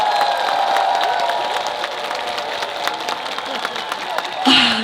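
Crowd applause and cheering at a live outdoor festival concert, a sustained wash of clapping with scattered shouts and whoops, fairly loud and steady, with a voice and a short sound cutting in near the end.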